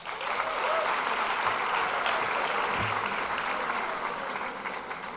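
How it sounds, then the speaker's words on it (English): Sustained audience applause at a hospitality convention, a dense steady wash of clapping from a large crowd that holds evenly for several seconds without voices breaking through. "Let's have a round of applause for him."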